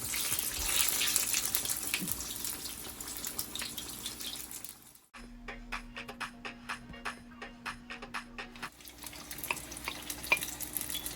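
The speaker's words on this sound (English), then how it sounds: "Frying up." Steady frying sizzle of cabbage and salt-fish fritters in a pan, then a stretch of rhythmic scraping and stirring, before the sizzle continues; no talking.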